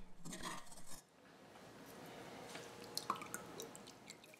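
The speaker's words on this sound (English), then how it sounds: "using a strainer to pour the oil out off the mire" Homemade coconut oil dripping through a kitchen strainer, with faint scattered drips and light clinks of utensils over a low steady background, close and quiet.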